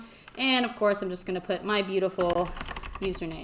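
Clacking keystrokes on a mechanical keyboard sound under a person speaking throughout, the typing close by but mostly masked by the voice.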